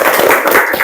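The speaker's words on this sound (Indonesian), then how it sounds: "Tepuk tangan buat Dapa dulu." Students in a classroom clap for a classmate, a brief, close burst of loose hand claps lasting under a second.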